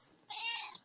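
A house cat gives a single clear, drawn-out meow, close and fairly soft, in a quiet room.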